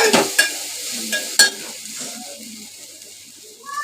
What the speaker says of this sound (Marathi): आता व्यवस्थित सगळं ढवून घेतलेलं आहे.